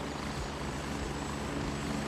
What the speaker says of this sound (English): The helicopter noises, they're so loud